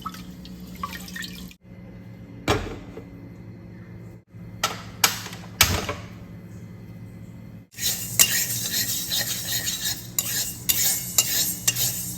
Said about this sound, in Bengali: কাঁচা মুগ ডাল ওই কড়াইতে মানে শুকনো খোলায় যেটাকে ভেজে নেওয়া বলে